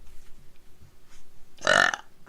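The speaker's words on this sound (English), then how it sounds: "9 out of 10 burp, thank you." A single short, loud burp from a person stands out against a quiet background.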